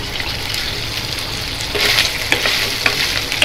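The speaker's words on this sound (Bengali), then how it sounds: "দুই চা চামচ তেল দিয়ে দিলাম। সিদ্ধ করে রাখা মাংসটা দিয়ে দিচ্ছি।" Boiled beef sizzles and crackles in hot oil, a steady frying hiss with a few sharper pops and stirring scrapes toward the end.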